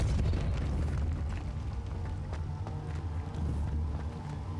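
A Confringo fire spell exploding in Hogwarts Legacy, heard as a steady rumbling blast with crackling bursts and a heavy low roar that persists through the clip.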